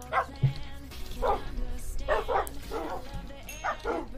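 A Minecraft puppy gives several short yips and barks in an uneven rhythm, with people talking over and between them.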